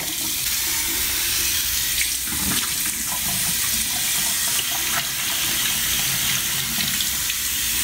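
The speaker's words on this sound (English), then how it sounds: "So I'm just gonna wash this mask off now" Tap water running steadily into a bathroom sink while a carbonated face mask is washed off, a loud continuous rushing splash with small shifts as hands move under the stream.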